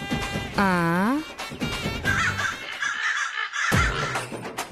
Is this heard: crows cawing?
yes